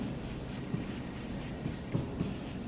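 Pencil or pen scratching steadily across paper as a word with a prefix and suffix is written by hand, faint and close, with small taps between strokes and no talking.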